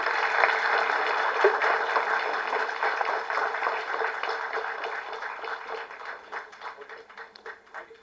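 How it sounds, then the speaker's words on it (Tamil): An audience at the PK Rosy film festival award ceremony gives a sustained round of clapping that starts full and dense and thins out toward the end. "ஒரு பெரிய கைத்தட்டல் கொடுக்கலாம்னு நினைக்கிறேன்."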